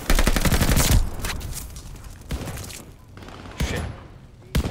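Rapid bursts of gunfire in a shooter video game, loud at first and then sparser, with sharp single shots punctuating quieter stretches.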